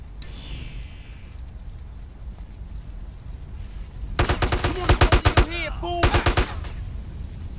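Machine gun fire in GTA: San Andreas, with two loud, close bursts of rapid shots separated by a brief pause, rising over a low game background rumble.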